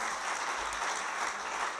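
Audience applause at a conference opening, a steady dense wash of clapping throughout, fairly quiet and even, with no voices over it.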